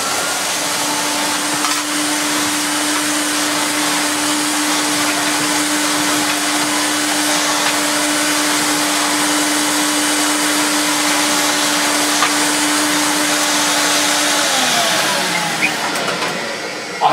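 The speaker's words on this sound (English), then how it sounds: "Hoover ready to go at last." A Hoover vacuum cleaner runs steadily with a loud, continuous motor whine and airflow hiss, close up, before the tone drops near the end as it powers down.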